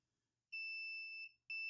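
A powder-coating oven controller in preheat mode gives a long, high electronic beep followed by a short second beep, clear and close in a quiet room.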